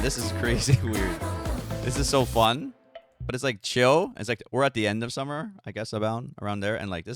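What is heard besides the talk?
No everyday noises stand out.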